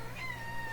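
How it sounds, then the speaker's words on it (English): A cat meows indoors, a short rising call at moderate level over a steady low electrical hum, with no talking. "My cat is here wondering what is going on."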